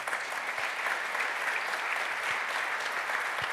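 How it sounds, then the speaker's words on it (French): Steady applause from a crowd, continuous clapping throughout without pause. "bien sûr, on peut applaudir"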